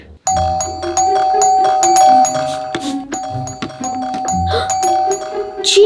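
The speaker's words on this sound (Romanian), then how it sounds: "Cineva sună la ușă." Several bright ding-dong chimes from a doorbell ring out close and loud, repeating over a few seconds in a home setting.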